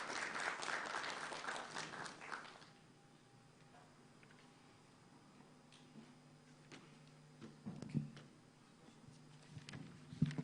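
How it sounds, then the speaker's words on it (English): An audience at a moot court competition final gives a short round of applause that lasts about two and a half seconds. It stops abruptly, leaving a quiet room with faint taps and shuffles. "A round of applause for the Honorable Justice."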